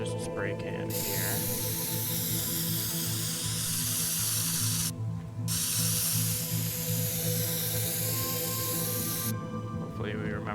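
Spray can hissing in the Teardown video game, a loud continuous spray sound lasting several seconds with brief pauses, layered over game background noise and mechanical clicks.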